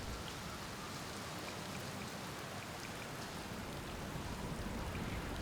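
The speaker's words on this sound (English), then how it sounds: "It's a good thing I never get bored of rain, huh?" Steady rain in the video game Outer Wilds, a dense, even hiss of falling drops that holds at a constant level throughout with no voices.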